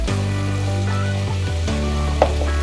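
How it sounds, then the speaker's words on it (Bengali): Dry chili powder hits hot spices frying in oil for spicy chickpea ghugni, giving a steady close sizzle with a low continuous frying hum, no voices. "এরপরে আমি দিয়ে দেব শুকনো মরিচের গুঁড়া, এটা স্বাদ মতো"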